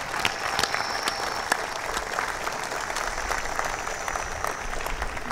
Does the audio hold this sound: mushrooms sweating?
no